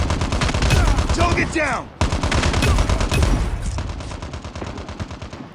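Rapid machine gun fire in the mobile shooter Call of Duty: Mobile, loud and sustained in two long bursts split by a brief gap, with a player shouting over the shooting.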